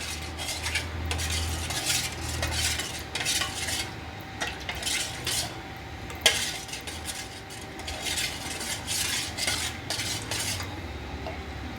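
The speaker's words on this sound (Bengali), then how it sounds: "দুধের মধ্যে আমি এই কাস্টার্ড পাউডারটা মিশিয়ে নেব।" A spoon stirs custard powder into milk in a pot, scraping and swishing in steady circular strokes with occasional light metallic clinks against the pot, close and without talking.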